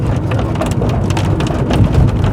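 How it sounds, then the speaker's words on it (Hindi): Heavy rain during a road trip from Dalhousie to Ghaziabad hammers down in a dense, loud, steady patter of close drops, unbroken for the whole stretch with no talking. "फेजेस में चल रही है बारिश ना, मतलब थोड़ी देर नहीं होगी फिर से आनी शुरू हो जाएगी"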